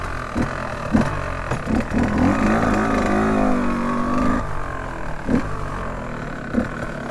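A KTM EXC 125 two-stroke dirt bike engine revs and pulls while riding, rising and falling in a buzzing drone with wind rushing past, fairly close.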